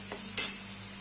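Soybean curry masala roasting in oil in a pan, with one short bright scrape of stirring over a faint steady sizzle, close and alone without talk.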